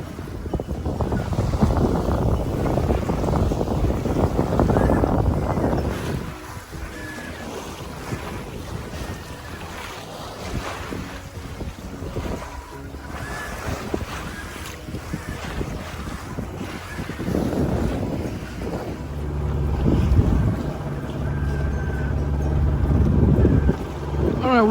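Strong wind roars across a sailboat under sail on a lake, buffeting the microphone in heavy gusts while water rushes past the hull, loud and continuous with no pauses.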